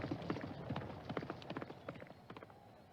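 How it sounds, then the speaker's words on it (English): Horse hooves pounding in a race in the video game Valkyrie Elysium, a quick run of rhythmic clip-clop beats that grow slightly fainter toward the end, with no voices. "That horse isn't out of the race quite yet."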